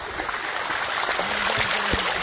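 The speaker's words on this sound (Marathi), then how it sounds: "कसा आहे बारका धबधबा" A small waterfall on a hillside trail near a fort rushes steadily, a broad continuous splashing wash heard close and moderately loud, with no speech.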